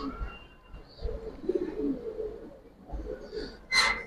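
Giribaz pigeons coo in soft, throaty bursts close by, several low rolling calls overlapping in an uneven rhythm, with a brief higher squeak near the end.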